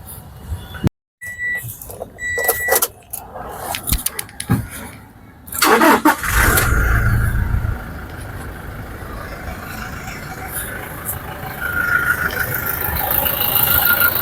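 An Innova Crysta 2.8 automatic engine cranks and catches with a roar, then settles into a steady idle hum that continues for several seconds.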